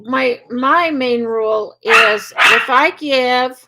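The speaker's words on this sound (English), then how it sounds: "sorry about the dogs barking in the background." Dogs bark in the background during an indoor live Q&A, the barks partly masked by someone speaking steadily in the foreground.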